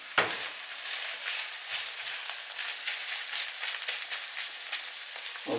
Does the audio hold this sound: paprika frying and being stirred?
yes